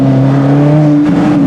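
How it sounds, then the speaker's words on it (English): Alfa Romeo 4C Spider engine pulling away under acceleration, a loud steady mid-range drone with a slight pitch shift, close and continuous, with no clear separate pops standing out. "hearing the pops and the bumps of the engine is really kind of amazing in this"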